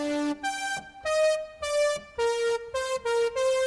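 A synth lead built from a custom Citrus preset in FL Studio plays the GTA theme melody for a beat: about nine sustained, bright notes in a stepped phrase with short gaps, heard alone and clearly.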